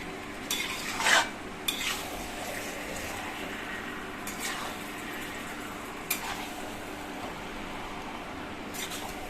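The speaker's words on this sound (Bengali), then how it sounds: "এবার মাংসগুলো দিয়ে এবার ভালোভাবে মিশিয়ে দিচ্ছি ওগুলোর" Marinated meat tossed with lightly fried onions in a wok for Bengali-style cooking, stirred with a spatula: soft scraping and occasional sharper metal knocks over a faint low sizzle.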